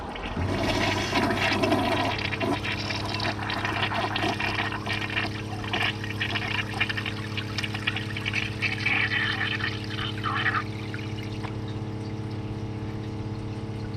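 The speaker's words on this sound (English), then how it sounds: "I'm gonna give it a second flush after the tank is full." A 1986 Kohler Wellworth toilet, still partly clogged, gets a second flush: a loud, steady rush and gurgle of water through the bowl with a low pump-like drone, then a quieter refill hiss as the tank fills. No one speaks.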